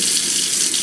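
Tap water runs steadily into a sink being cleaned, a continuous broadband hiss and splash that stays even and fairly loud throughout, with no voices.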